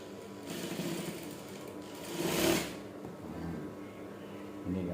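A sewing machine stitches a batik shirt, its motor whirring in a couple of steady runs of a few seconds each, moderately loud and close.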